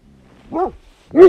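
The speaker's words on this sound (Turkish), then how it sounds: "Sokak köpeği mi artık neyse. Oradan havlıyor." A street dog barks from somewhere below, two short gruff barks about half a second apart, the second louder and closer-sounding, in otherwise quiet surroundings.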